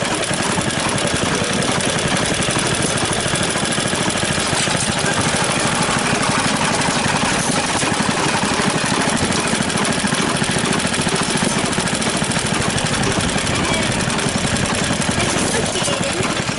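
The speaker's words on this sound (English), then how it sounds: "it's been a running mower that works really good" An old lawnmower's small engine runs steadily and loudly throughout, with a rough, rattling chug that never lets up.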